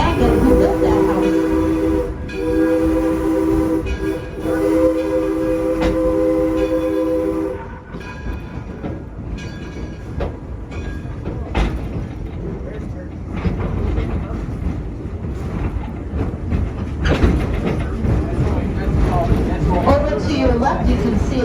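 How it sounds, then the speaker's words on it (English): Steam locomotive pulling a train at Greenfield Village, a loud multi-tone whistle blasting several times, then rumbling wheels and clatter of the cars rolling past, with a voice talking over it. "Here in the Greenfield Village, we have steam locomotives that pull our gas trains."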